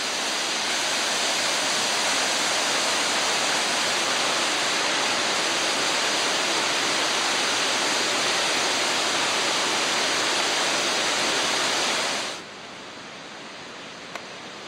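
A river rushes through Iao Valley on Maui, below the Iao Needle, as a steady, loud broadband roar for about twelve seconds before cutting off abruptly to near quiet.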